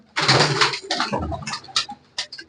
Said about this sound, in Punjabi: ਇਹ ਨੀਲੇ ਵੱਡੇ ਕਬੂਤਰ ਲਾਲ ਆ ਹੈਂ।